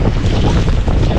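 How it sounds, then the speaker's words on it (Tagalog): Heavy rain pours down in the first hard downpour of a very hot summer, a dense, loud, continuous hiss close to the microphone. "Ang lakas na ng ulan"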